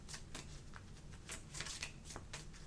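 A deck of cards being shuffled, with quick riffling bursts of crisp flutter repeating several times, close and clear over a faint background hum.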